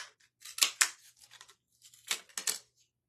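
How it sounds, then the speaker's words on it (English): Scissors snip popsicle sticks in half in a quiet room, first in a cluster of sharp, close cuts, then a pause, then a second group of crisp snips and clacks. "I'm gonna actually use these to cut popsicle sticks in half"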